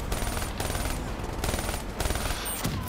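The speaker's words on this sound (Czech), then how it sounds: "To střílí po dvou ten kulomet?" Rapid machine gun bursts rattle nonstop with brief pauses in Call of Duty: Black Ops III, loud and harsh with a synthetic, game-like quality.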